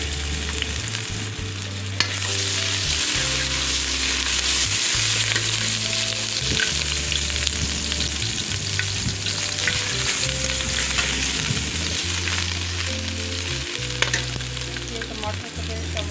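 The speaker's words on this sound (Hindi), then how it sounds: "ये प्याज फ्राई हो गया है, ये लहसुन अदरक का पेस्ट शामिल कर रही हूँ।" Onions sizzle in a hot pan as garlic ginger paste is added and stirred for a black chana masala gravy, a steady close frying hiss broken by scraping stir strokes, with no talking.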